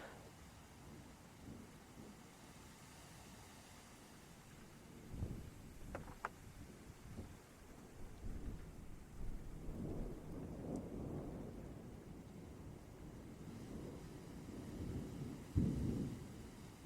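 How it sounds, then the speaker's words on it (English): Steady rain falls through a quiet midnight, with soft rolls of distant thunder and a few louder swells. It stays faint and continuous, and no one speaks. "SFX, steady midnight rain, windshield wipers in the distance"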